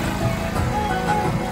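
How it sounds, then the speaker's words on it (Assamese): A generator running at an outdoor event gives a steady, continuous engine drone with a low hum, unbroken and fairly close. "আপোনালোকে জেনেৰেটৰ মাত শুনা পাইছে"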